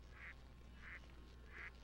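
A penguin character in the Lego Batman video game gives three evenly spaced, duck-like quacks, clear and moderately loud over a steady low game background hum.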